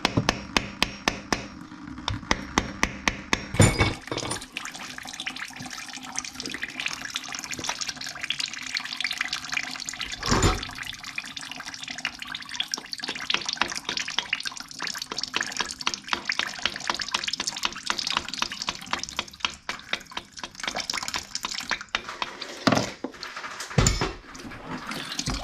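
Water drains and splashes steadily from a freeze plug hole in an engine block, broken by repeated sharp metallic taps and clanks throughout.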